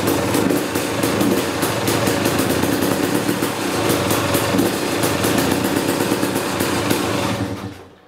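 A motorcycle engine with a hydraulic clutch idles steadily and close by while the clutch lever is checked for engagement, a constant rough hum that fades out at the very end.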